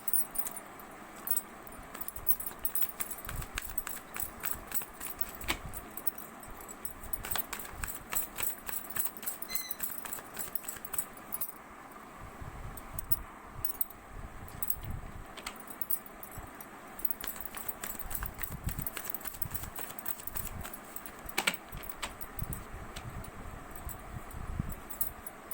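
Tarot cards are shuffled and pulled from the deck, giving a long run of soft, close, irregular riffling taps and slaps throughout, quiet and without speech.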